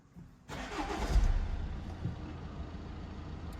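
An Audi A6 TDI diesel with a boost sensor fault cranks and fires into life after a brief quiet moment, the engine catching with a rumbling surge and settling into a steady close idle.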